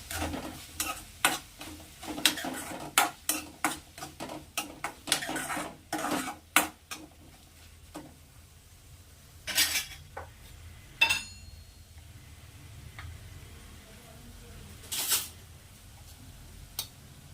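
Turmeric powder fries in a pan for a potato palya, with a spoon or spatula repeatedly scraping and clinking against the metal over a soft, steady sizzle, with bursts of stirring and quieter pauses.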